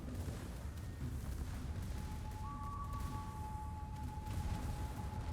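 Battleship gunfire in World of Warships, HE shells pumped out in a steady run of low, rumbling booms that carry right through, with a thin tone held above.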